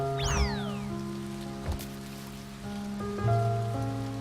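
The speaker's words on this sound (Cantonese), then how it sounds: "落雨，落雨。" Steady rain patters throughout a scene in the video game A Bird Story, with sustained musical tones and short melodic swoops layered over it and no talking.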